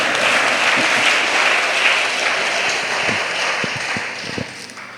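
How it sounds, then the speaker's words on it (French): Audience at a training session on inculturation and evangelization gives steady, full applause that fills the hall for about five seconds, with a few louder individual claps standing out near the end. "Maintenant, nous allons applaudir en français."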